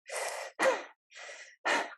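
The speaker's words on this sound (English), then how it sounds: "you do 10 rounds of the Wim Hof breathing" Wim Hof forced deep breathing, four strong breaths alternating in and out through mouth and nose, each about half a second long with short pauses between, loud and close with no speech.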